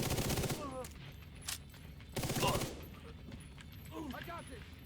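Gunfire in a video game, a few short bursts of rapid shots mixed with game effects and a voice talking, moderately loud and close.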